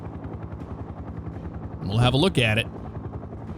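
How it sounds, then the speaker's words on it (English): A helicopter in the Highway Police Simulator video game, a brief loud rotor burst rising over a steady low engine drone, with someone talking over it. "Look at that helicopter."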